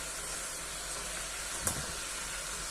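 Salty shankarpali dough pieces deep-fry in hot oil, giving a steady, even hiss with one brief crackle partway through.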